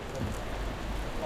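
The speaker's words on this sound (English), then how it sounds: "rain stops play" Steady rain falling outdoors, an even close hiss of drops across the whole moment with no clear voices or thunder.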